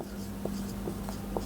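Chalk or marker writing on a classroom board, a few soft, faint strokes and taps over a quiet room hum.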